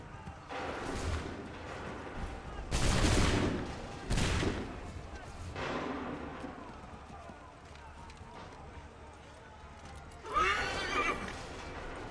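Musket volleys crack out in a battle from Assassin's Creed 3, several loud broadband bursts spaced a few seconds apart amid horses neighing and hooves clattering, with shouted voices in the mix.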